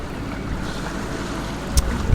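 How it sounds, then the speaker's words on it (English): A sailboat crossing the Bahamas Bank in very light wind, its engine on tick over, gives a steady low rumble under wind and water wash, with a couple of brief louder knocks near the end. "I've got the engine on tick over just to push us along a little bit."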